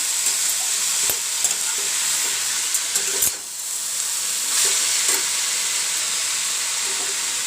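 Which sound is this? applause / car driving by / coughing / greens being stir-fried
greens being stir-fried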